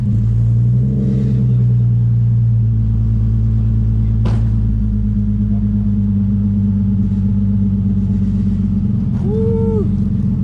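A Nissan 350Z engine idles steadily and close by, a deep even rumble holding through the whole stretch with no revving and no talking over it.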